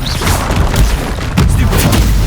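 A Confringo blasting spell explodes in the Hogwarts Legacy video game, giving a loud, booming burst with a second heavy blast about midway through, all dense low rumble and no voices.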